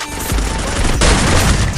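Dense, loud bursts of rapid gunfire fill the whole stretch, continuous and overlapping like automatic weapons in a battle in a Free Fire championship match.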